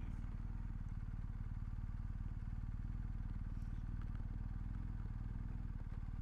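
A BMW R1250GS Adventure motorcycle pulls away in first gear, its engine a steady, close, throbbing rumble that runs unbroken from start to finish with no talk.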